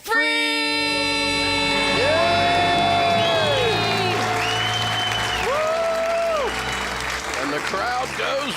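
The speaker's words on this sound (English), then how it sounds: "The crowd goes wild." A studio audience on a radio talk show bursts into applause and cheering right after a couple's shouted celebration of becoming debt-free; dense clapping holds steady throughout, with whoops and raised voices riding over it.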